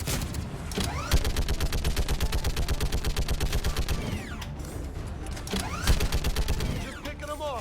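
Turret gunfire in the video game Mass Effect 3, a rapid, loud mechanical burst that repeats evenly, breaks off briefly, then starts again, with whooshing effects between the bursts.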